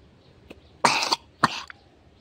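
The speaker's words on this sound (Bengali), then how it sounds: "আমার আজ অনেক কাশি হচ্ছে" A person coughing, two harsh bursts in quick succession with a faint catch before them, close and clear against a quiet background.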